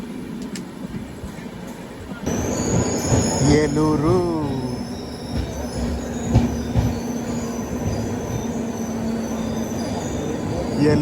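Tirumala Express from Visakhapatnam to Kadapa rumbles along near Eluru, a loud steady roar with rising and falling wheel squeals, heard from inside a general coach, with a brief voice over it.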